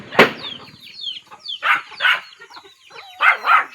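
Several short chicken-like calls and clucks in bursts, fairly close, with a sharp burst at the start and pauses between calls.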